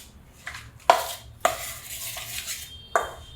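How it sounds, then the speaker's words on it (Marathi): Soybean chilli batter with cornflour being whisked by hand in a bowl, a few sharp clinks of utensil against the dish over a soft, steady scraping swish, close and alone with no voices. "असं फेटून घेते चांगलं"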